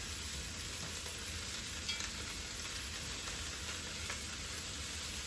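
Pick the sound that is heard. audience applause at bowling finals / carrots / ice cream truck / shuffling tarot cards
carrots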